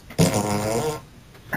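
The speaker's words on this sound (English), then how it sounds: "number 3 is the trumpet fart" A trumpet fart sound effect: one loud, close, brassy blat lasting under a second, tailing off into a faint rasp.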